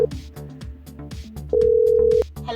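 A telephone rings on an outgoing call: a steady electronic tone holds for under a second, while a synthesized musical backing plays beneath it.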